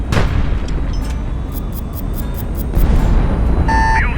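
Missile impacts striking a ship in the naval combat game HighFleet, a dull booming rumble under rapid clicking ticks, then an alarm-like beeping tone rising at the end, loud and close.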